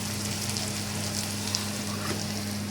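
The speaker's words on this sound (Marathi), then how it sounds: "आता कांदा आपल्याला थोडासा लाल करून घ्यायचा" Chopped onion sizzles and crackles steadily in a hot pan as it browns for a quick prawn biryani, a dense, even frying hiss with no voices.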